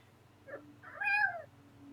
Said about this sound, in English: the last question is meow from Alora's cat.